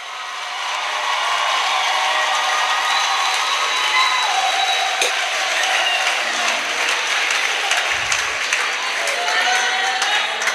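A church congregation at a worship service breaks into loud, sustained applause and cheering that fills the room continuously, with a brief low thump near the end.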